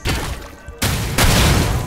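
Loud bursts of explosive booms and crackling blasts in the video game High on Life fill the clip, with a brief drop in the middle before another heavy wave of noise.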